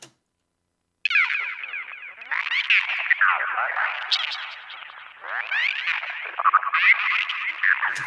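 A psytrance driving atmosphere synth sample built in a sampler plays alone for about seven seconds, a dense, swirling band of shimmering tones with sweeping, rhythmic modulation, after a second of silence.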